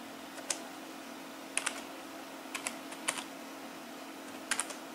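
HTML code goes into a computer keyboard as sparse, quiet key clicks in small bursts over a steady background hum.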